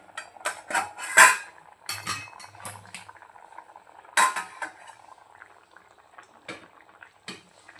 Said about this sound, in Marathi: गॅस कमी करून आता आपण झाकून भाजीला छान दहा ते पंधरा मिनटं उकळू देऊया